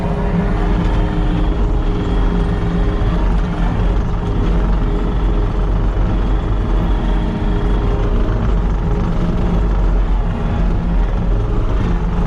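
A New Holland C345 track loader with a 95-horsepower engine runs steadily below full throttle while working, giving a loud, continuous diesel drone and rumble throughout with no pauses.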